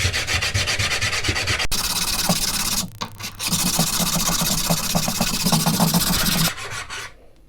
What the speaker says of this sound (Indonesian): saya mau coba tipiskan tonjolan di ring gerinda ini pakai amplas manual aja seperti ini.